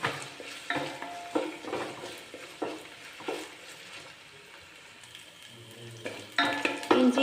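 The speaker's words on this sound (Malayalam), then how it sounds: "ആ കൂടെ തന്നെ പച്ചമുളകും ചേർക്കാം രണ്ടോ മൂന്നോ തണ്ട് കറിവേപ്പിലയും കൂടെ ചേർത്ത് ഇനി ഇത് നന്നായിട്ടൊന്ന് വഴറ്റിയെടുക്കണം" Green chillies and curry leaves sautéing in a pan for a mango and carrot pickle, giving a soft sizzle under repeated scraping and stirring knocks of a spoon against the pan, close and moderately quiet, with no talk.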